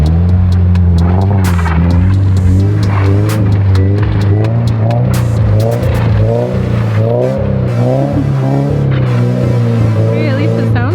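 A 2022 Subaru BRZ with an aftermarket exhaust drives steadily, a loud continuous low rumble with wavering throttle swells heard from close by, with people talking over it.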